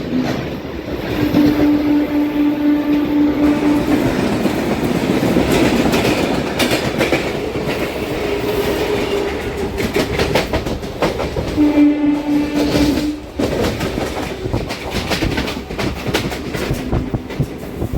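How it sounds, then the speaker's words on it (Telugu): The Kamakhya–SMVT Bengaluru AC Superfast thunders past at Venkatachalam Junction, a continuous loud rolling clatter of wheels broken by two long horn blasts, one early and one later, with no voices. "Kamakhya SMVT Bengaluru AC super fast"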